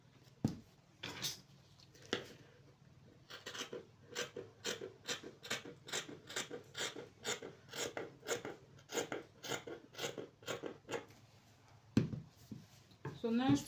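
Scissors cutting out fabric for a bodycon top, a long run of close, crisp snipping strokes in a fairly steady rhythm, with a few rustles of cloth.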